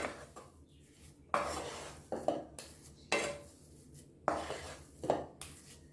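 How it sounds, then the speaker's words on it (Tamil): Spoon clanks and scrapes in a pot as almonds and pumpkin seeds are stirred into orange kesari, several loud metallic scrapes at irregular intervals over a quiet background. "இப்போ இதையும் சேர்த்து நல்லா மிக்ஸ் பண்ணி விட்டுக்கலாம்"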